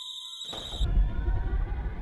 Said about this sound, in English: then the alarm went off again